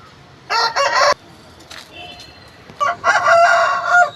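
A fighting rooster at a Nellore cockfighting yard crows twice, close and loud: a burst around the first second, then a longer drawn-out crow after a short gap, with faint clucks and background noise between.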